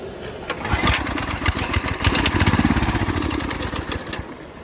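A Coleman go-kart's small engine with a faulty carburetor pulls to life, then runs close and loud with a rapid, choppy putter that rises briefly as it settles, and no one speaks.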